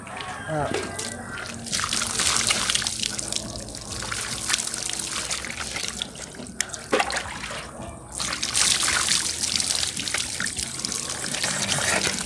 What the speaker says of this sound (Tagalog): Tapos dumaga itong tubig, ha?